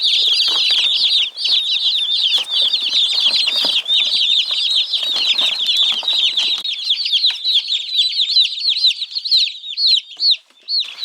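Chicks and turkey poults peep constantly at a chicken ranch, a dense, high-pitched chorus of many young birds close by with no talking.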